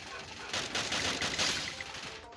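Rapid bursts of Free Fire video game gunfire crackle in quick succession, a dense fusillade of shots at moderate volume.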